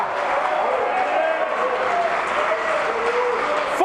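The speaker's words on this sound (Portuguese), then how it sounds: "Pode aplaudir, pode aplaudir." A Pentecostal church congregation applauds steadily throughout, a dense wash of clapping from a large crowd with a voice talking over it.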